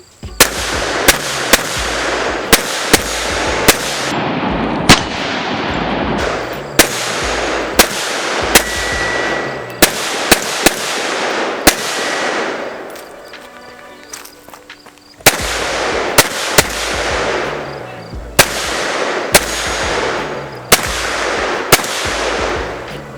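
A Kel-Tec PMR30 pistol fired at a 100-yard target in a long string of loud, sharp shots with close reports, in uneven clusters with a quieter pause in the middle.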